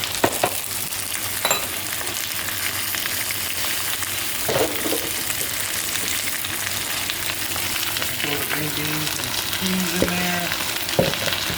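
Onions, squash and cabbage stir-frying, a loud, constant hiss and sizzle close up with occasional scrapes and light knocks of a utensil in the pan, no talking.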